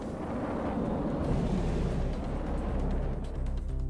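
Missiles explode with a continuous low, distant rumble in the naval combat game From the Depths, as countermeasure missiles shoot down larger ones. The booming roar is steady and muffled, and there is no talk.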